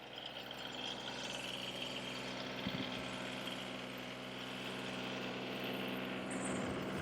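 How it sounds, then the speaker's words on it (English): A tractor engine runs while moving a round hay bale on a farm, a steady low droning hum with a brief heavier thump midway, constant level throughout and no talk. "I'm not recommending you buy this tractor for moving a round bale"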